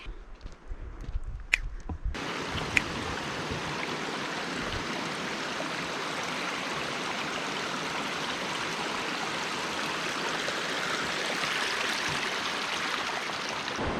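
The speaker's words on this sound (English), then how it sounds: "This is a good view of the river." A river flows steadily in Olympic National Park, its broad continuous rush filling the air at close range after a brief quieter moment at the start, with no talking over it.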